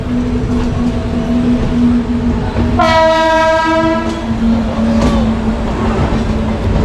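Purvanchal Express on the Gorakhpur–Kolkata route passing at speed, a loud sustained horn blast over steady rumbling wheels and rail clatter, the roar continuing close and heavy after the horn ends.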